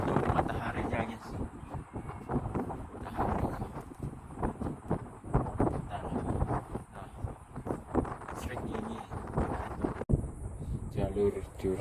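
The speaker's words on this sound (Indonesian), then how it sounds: "Anginnya kencang, kencang situ" Strong wind gusts buffet the microphone on a cliffside mountain trail during a climb of Mount Buthak, a steady rough roar with voices talking over it throughout.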